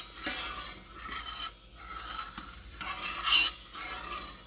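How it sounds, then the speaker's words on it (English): Coconut cream sauce simmering on low heat in a pot, stirred with a utensil: soft scraping swishes recurring in uneven strokes, close and moderately quiet, with no voices. "Gotta keep it stirred so it doesn't stick to the bottom or burn"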